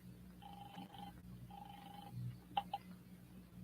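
Telephone ringing on an old long-distance call recording: two faint ring bursts of equal length heard down the line, followed by a couple of short clicks, with low hum underneath.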